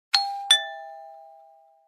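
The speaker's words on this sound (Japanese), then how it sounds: "チャイムを押す。" A house doorbell gives a clean two-note ding-dong: two sharp strikes about a third of a second apart, each tone ringing on and fading slowly, alone in silence.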